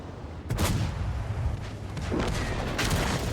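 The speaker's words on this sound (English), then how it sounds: "Thank you, artillery." Artillery in a tank video game fires with a loud, close boom, followed by a second heavy blast a couple of seconds later over rumbling battlefield noise.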